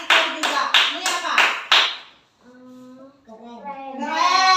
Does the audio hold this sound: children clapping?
yes